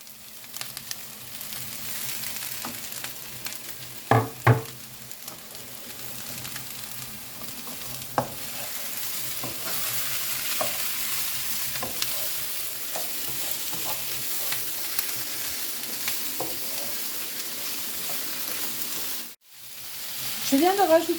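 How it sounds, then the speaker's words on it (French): Onion, shallot and garlic sautéing in a pan for a bean, tomato and chorizo dish, a steady close sizzle with occasional stirring scrapes and knocks, briefly cutting out near the end. "Tu vas faire revenir ton oignon, ton échalote, ton ail."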